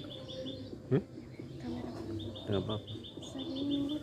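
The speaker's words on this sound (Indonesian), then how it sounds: "Di sini banyak sekali burung-burung kecil ya." Small wild birds chirp in the morning behind a house, repeated high tweets and short calls at moderate distance, with a brief spoken question and soft voices in between.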